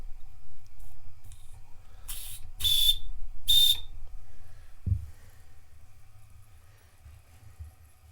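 A small model turbine gives two short, shrill whistle bursts close by, followed by a soft thump and a low background hum.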